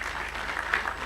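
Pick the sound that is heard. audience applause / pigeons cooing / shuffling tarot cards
audience applause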